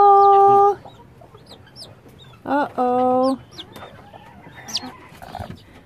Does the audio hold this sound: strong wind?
no